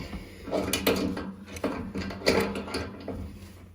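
Brass radiator valve fitting being nipped tight with a spanner on a central heating system, giving repeated close metallic clicks and scrapes in short bursts, with no talk.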